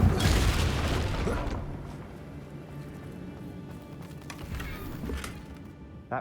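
A Confringo fire spell blasts in Hogwarts Legacy, near a damaged bridge: one loud, booming burst at the start that rolls into a long, dull rumble and crackle, fading under scattered game noise, with a small pop at the end.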